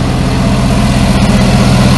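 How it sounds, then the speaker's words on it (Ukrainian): A Deutz tractor engine idles close by on a farm, a loud, steady low-pitched rumble with even vibration throughout, with no other sounds. "Трактор Дойц."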